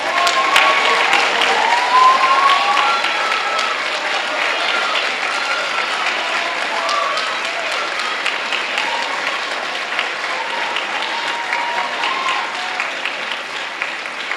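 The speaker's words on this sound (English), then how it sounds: "Give them a round of applause." An audience applauds seniors at a spring orchestra concert, with loud sustained clapping filling the hall and slowly easing off.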